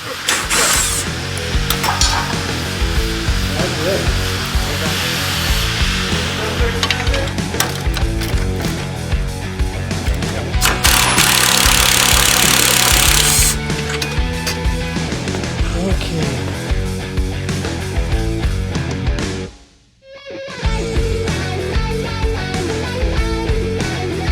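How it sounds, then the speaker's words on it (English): Bolts on an off-road vehicle's engine mount being broken loose with tools during chassis strengthening work, giving loud continuous ratcheting and mechanical clatter with a burst of harsh noise and one brief drop to quiet near the end. "down there busting these bolts loose"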